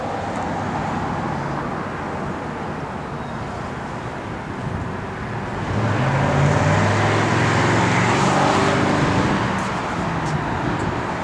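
A 1968 Plymouth GTX with a factory four-speed manual driving on a chilly day, its steady engine and road noise rising slightly in the middle and holding at a moderate level throughout, with no talk.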